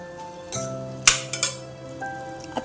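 A spoon clinks and scrapes against a pan while salted, mashed paneer bhurji is stirred, giving a few sharp metallic taps over a faint steady background hum.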